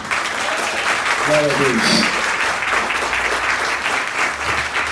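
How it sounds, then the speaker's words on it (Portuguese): A church congregation applauds at an anniversary service, a broad wash of clapping that stays steady while a voice speaks briefly over it. "Aplauda o Senhor mais uma vez, amém?"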